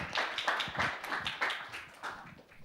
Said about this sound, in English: please, a very big round of applause for our startups.